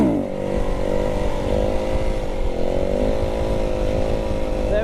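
A motorcycle engine revs hard during a wheelie, a loud, sustained buzzing drone up close, with talk faint underneath.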